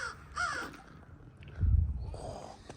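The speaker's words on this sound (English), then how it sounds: "Is that a crow?" Nearby by a clear lake, a crow gives a few harsh, rasping caws in the open air, the calls standing out over a low rumble of wind or handling noise.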